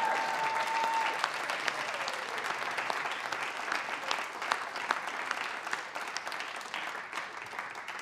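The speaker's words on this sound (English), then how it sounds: "let's give another round of applause for the 2017 Radio Humber Hall of Fame" Audience applause fills a hall of fame induction ceremony for a radio program, a dense, steady clapping from a large crowd that holds for several seconds and thins slightly toward the end.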